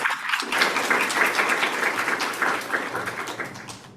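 Audience applause after a talk at the Code/Astro workshop, brisk and fairly close, starting abruptly and continuing steadily before easing off at the end.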